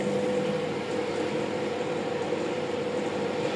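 A microwave oven running on its soften-and-melt setting while heating an egg, a steady low hum with a faint tonal whine, continuous and even throughout, no talk.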